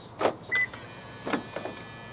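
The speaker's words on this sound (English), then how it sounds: "To lock the car, press the ribbed area on any of the front door handles." Keyless locking of a 2022 Toyota Veloz 1.5 by pressing the ribbed front door handle: two short mechanical clunks of the door locks with a brief electronic beep between them, close by and fairly quiet, no talking.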